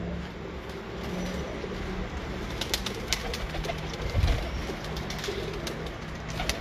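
Breeder pigeons coo softly and repeatedly in a quiet loft, with faint background noise and occasional small knocks.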